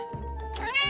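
A pet cat gives a single clear, drawn-out meow with rising harmonics, close and loud, with no talking over it.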